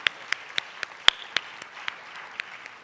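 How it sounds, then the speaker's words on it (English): Sparse, scattered clapping at a senior honors ceremony, roughly a dozen distinct claps spaced irregularly over a quiet room, one louder and closer than the rest. "Can I get a round of applause one more time for all of the students who received awards,"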